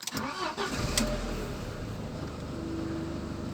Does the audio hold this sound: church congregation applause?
no